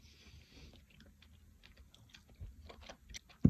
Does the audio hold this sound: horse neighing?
no